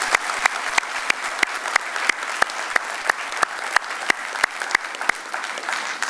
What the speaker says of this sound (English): Let's give this group a rounding round of applause.